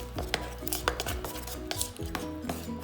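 Vegan cake batter coloured with gel food colour is stirred in a bowl, making a run of soft, irregular scraping and sloshing strokes close by.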